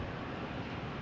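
Broadband jet roar from a JetBlue Airbus A220 airliner arriving at Boston Logan Airport, a steady, full-spectrum rush with no gaps, close and fairly loud throughout.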